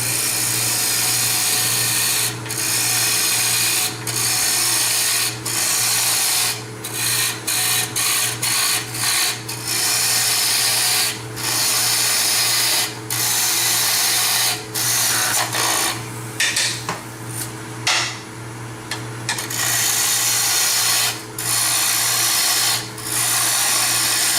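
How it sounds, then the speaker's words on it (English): Wood turning on a lathe, cutting a tenon on the bottom of a turned wooden box as waste wood is cut away: a loud, steady close hum with repeated sharp tool bursts throughout and no talking. "Okay, so now I need to make a tenon. So I just got to waste away some wood here."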